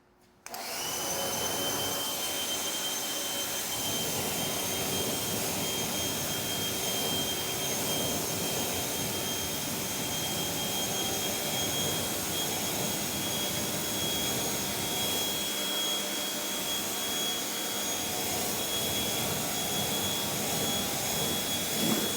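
A strong water spray rinses a car wheel after wheel cleaner, a loud steady pressurized hiss running almost unbroken after a short quiet start, with no speech.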